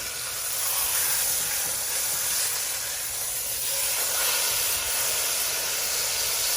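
Corned beef sizzles in a hot pan as it browns, a steady loud hiss of searing and spattering fat that runs continuously without talk.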